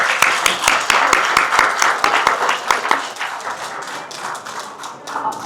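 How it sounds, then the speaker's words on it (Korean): An audience applauds at a dinner event celebrating Seoul National University's College of Natural Sciences 50th anniversary, starting with loud, sharp rhythmic group clapping and then spreading into a fainter, scattered patter of claps. "한번 큰 박수 부탁드립니다."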